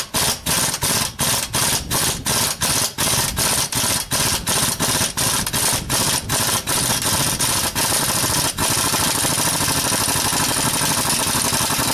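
An impact wrench works on a bolt in the engine of a Ford Taurus with a 3.0L OHV engine. Loud, rapid, regular rattling hammer blows run for several seconds, then blend into a steady, close mechanical roar.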